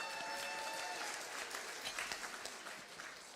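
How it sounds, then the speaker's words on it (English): Audience at a church pops concert clapping, a fairly quiet, even patter that thins into scattered claps toward the end, with a brief voice at the close. "Let's give them a round of applause."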